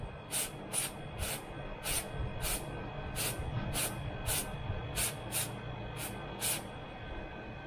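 Short bursts of aerosol cleaner spray hiss repeatedly onto a car's MAF sensor, a dozen quick spritzes in an uneven rhythm, close and fairly loud over a steady background hum.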